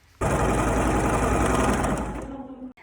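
Sewing machine running continuously on white practice fabric, a steady fast whirring stitch for about two seconds that then slows and stops, close and alone.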